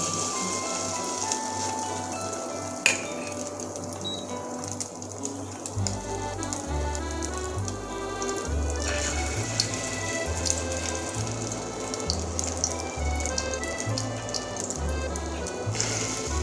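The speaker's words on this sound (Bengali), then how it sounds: "মশলা মাখানো মাছের ডিমটা এবার আমি তেলে ছেড়ে দেব এক চামচ করে দিতে থাকবো" Spoonfuls of spiced fish roe kofta batter frying in smoking-hot oil, a steady close crackling hiss with scattered pops, a low rhythmic thumping underneath from the midpoint on.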